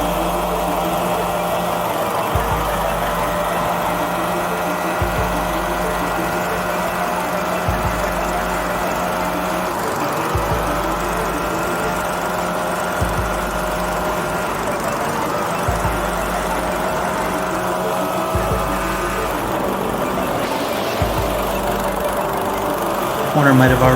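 A big hovercraft runs with a continuous engine and fan drone while it slides and turns, its low thumps pulsing every few seconds and a rougher surge near the end.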